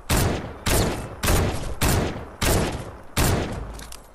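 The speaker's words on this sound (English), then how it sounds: "I'm shooting at him." Sniper rifle fire in Fortnite Battle Royale rings out as six loud, close shots, one every 0.7 seconds or so, each a sharp crack followed by a short decaying echo.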